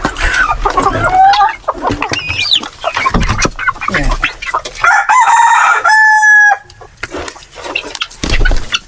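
A native rooster crows loudly close by while other farm chickens cluck in short bursts around it, with some voices talking between the calls.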